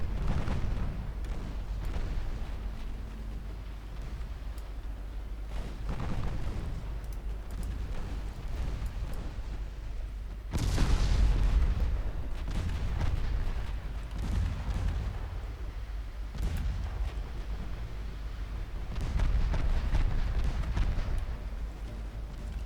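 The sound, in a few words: battleship gunfire in Ultimate Admiral Dreadnoughts video game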